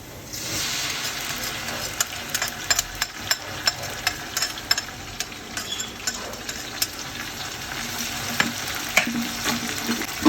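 Chopped onion frying with ginger-garlic paste in a pan for nehari, a continuous low sizzle broken by repeated sharp scraping taps of a spoon stirring against the pan.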